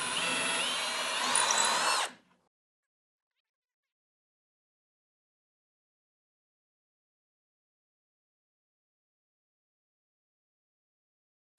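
A power drill enlarges bolt holes in a bevel cutting jig for a table saw, running in a single close, steady whine for about two seconds before stopping abruptly, followed by silence.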